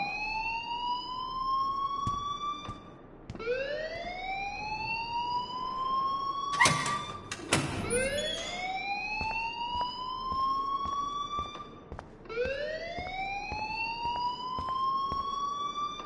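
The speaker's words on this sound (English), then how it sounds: "please turn off that alarm since that's your job" A fire alarm rings in Life is Strange, rising whooping sweeps repeating every few seconds, loud and close, broken briefly by a burst of clatter midway.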